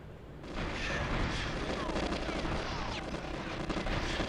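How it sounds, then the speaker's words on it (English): Constant gunfire fills the Train level of GoldenEye 007, with many rapid shots and bursts overlapping into a dense, unbroken barrage that starts after a brief quiet moment. "Everybody does not stop firing."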